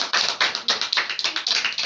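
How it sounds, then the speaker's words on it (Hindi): A group of children in a Bible class claps together, sharp, loud, close handclaps in a quick, steady rhythm. "दो जोरदार तालियां बजाओ"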